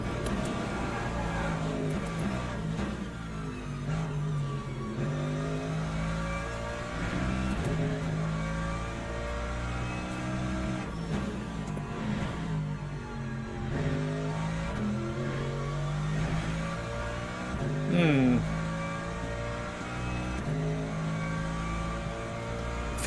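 A race car in the Le Mans Ultimate sim at Bahrain, its engine revving, shifting and dropping in pitch as it climbs and falls through the gears, a continuous loud drone that keeps rising and easing off.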